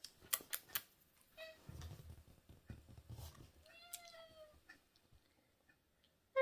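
A pet cat gives a few short, quiet meows close by in a calm room, with soft clicks and light handling noises between the calls.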